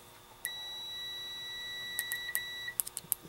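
A multimeter continuity tester checking an input jack on a Fender Blues Jr amp sounds a steady high electronic tone for about two seconds, followed by several short chirping beeps as the probes touch and lift, no talk.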